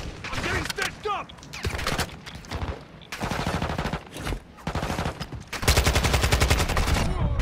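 Repeated automatic gunfire strikes a player in Call of Duty Modern Warfare 2 DMZ on Ashika Island, arriving in loud rapid bursts with short gaps between them and a sustained volley at the end, with voices talking underneath.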